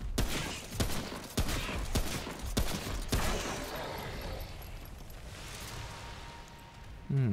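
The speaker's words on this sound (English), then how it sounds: "Wow, he shot me." Gunfire in Remnant: From the Ashes: several loud, sharp shots burst out in the first few seconds, followed by a steadier rumble of battle and a final close blast.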